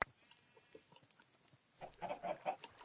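Chickens clucking on a Minecraft FTB chicken farm, soft blocky clucks scattered through a quiet stretch, then a quick cluster of louder clucks near the end.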